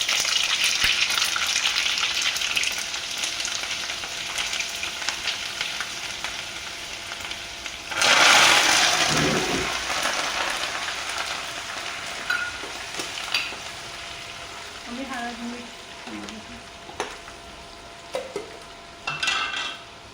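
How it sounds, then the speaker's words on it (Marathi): Poha chivda ingredients hitting hot oil, a loud continuous frying hiss that surges as more goes in, with scattered clinks and scrapes of a spoon against the pan. "तेल गरम असेल पटपट टाकायच्या गोष्टी,"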